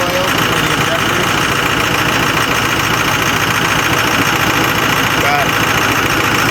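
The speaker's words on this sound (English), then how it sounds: "I'm gonna let this thing run for a little while and warm up." A Ford 6.0 Powerstroke diesel, long abandoned, idles and warms up in a steady, loud, continuous rumble with a faint clattering texture, close by, and no talk over it.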